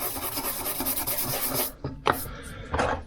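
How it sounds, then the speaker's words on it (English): Sandpaper rubbed over a surface to rough it up, quick rasping strokes in a rapid rhythm for over a second, then a few separate scrapes, close and fairly quiet. "Get a bit of sandpaper, rough it up a little bit"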